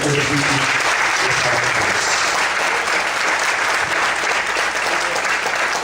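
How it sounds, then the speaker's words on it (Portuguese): Loud, sustained applause fills a church as the congregation claps for the Lord during a Portuguese service. The clapping is dense and close, with faint voices mixed in beneath it. "Desocupe a mão, aplauda o Senhor."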